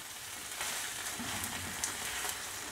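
Empanada gallega filling with fried tomato sizzles in a pan while being stirred, a continuous dense frying crackle with scattered pops and faint scraping, steady and fairly quiet with no one talking.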